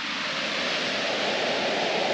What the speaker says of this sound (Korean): 여기도 파도가 만만치 않습니다